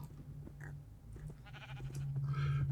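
Sheep bleat faintly on a video game farm: a few short, wavering calls come and go over a low hum, with a louder pair of bleats toward the end.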